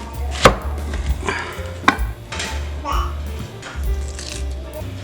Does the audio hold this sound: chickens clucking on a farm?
no